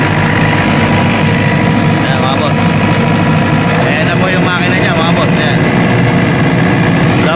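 A reconditioned Denyo diesel generator set engine runs continuously with a loud, heavy, steady drone, and voices talk over the noise.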